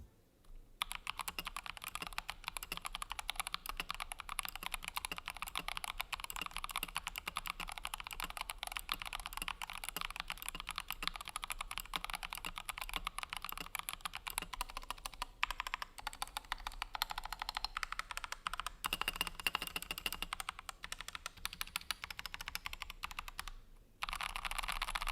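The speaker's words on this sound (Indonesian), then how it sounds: "Sebelum videonya udahan kita dengerin dulu typing testnya" Rapid, continuous typing on a Tecware Phantom Plus Elite mechanical keyboard, dense close-up key clacks in an even rhythm, with a couple of brief pauses and no talking.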